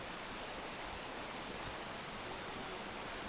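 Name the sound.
waterfall in a forest on the Great Ocean Road, Australia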